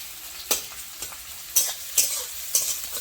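Spice paste for chicken curry fries in a pan, a steady sizzle broken by a spoon scraping and stirring about every half second, close and clear, with no voices.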